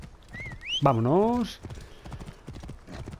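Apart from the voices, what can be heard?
armored horse galloping in video game Assassin's Creed Origins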